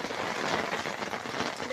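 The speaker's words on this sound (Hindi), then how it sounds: "देखो कितनी तेज बारिश हो रही" Heavy rain pours onto a rooftop, a steady dense hiss of drops hitting the surface, close and continuous throughout the short stretch.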